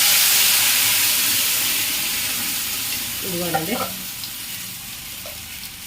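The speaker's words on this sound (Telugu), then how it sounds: "ఇప్పుడు పప్పు పోసుకుందామండి" Hot cooked dal poured into a sizzling tempering sets off a loud, close hiss that slowly fades over several seconds, with someone speaking briefly partway through.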